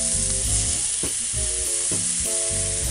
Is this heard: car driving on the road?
no